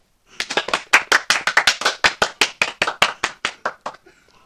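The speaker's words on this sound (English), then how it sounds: "With all that clapping," A small group claps steadily in a classroom, roughly twenty crisp close hand claps in an even, rapid rhythm over about four seconds, then stopping, with no voices.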